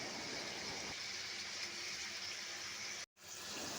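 Cooked mutton intestines are poured with their cooking liquid into a pan of onion masala, making a steady gushing, splashing pour that runs nearly continuously before a brief cutoff and resumption.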